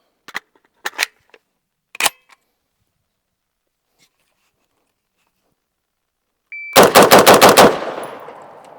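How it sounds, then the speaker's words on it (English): An SG36 rifle fires at a shooting range: a few sharp single shots and clicks early on, then a loud, close, rapid string of about eight shots ringing out after a pause. "So yeah, you can shoot this gun pretty fast."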